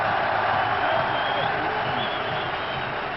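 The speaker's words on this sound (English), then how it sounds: "He's getting up and there's a big cheer" Cricket crowd at the 2009 Pakistan vs South Africa semi-final cheering as a fielder gets back up, a sustained, dense wash of cheering and clapping at steady volume.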